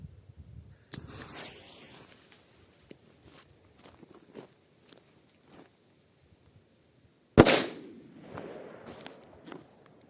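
A fizzing, crackling Dum Bum Big F2 Silver firecracker fuse followed by one sharp, loud bang near the end, then a brief scatter of debris and rustling.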